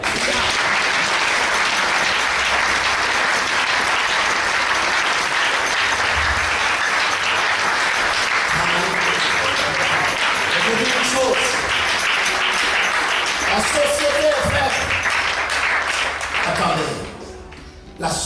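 A church congregation bursts into sustained, dense applause during a sermon on the family, steady and loud for most of the stretch with voices mixed in, then tapering off near the end.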